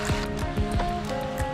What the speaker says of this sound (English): as you can see, the waterfall is running